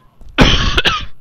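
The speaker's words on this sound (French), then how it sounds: "Ah, excusez-moi, j'ai une petite toux." A single loud, close cough bursts out with a short second catch near its end, alone and with no talk around it.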